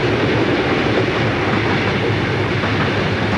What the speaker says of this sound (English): We caught this train as we were mid-hill on the road to town.